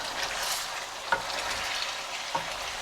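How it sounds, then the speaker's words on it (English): Steady hissing sizzle of hot oil as beef for pasanda fries in a pan, with a couple of soft spatula taps. "the oil has started to sizzle now"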